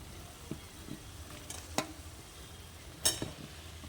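Partly boiled potatoes go into a hot pan with oil for an egg curry, giving a soft, low sizzle. A few faint scrapes and clinks of stirring punctuate the quiet frying, with no talk.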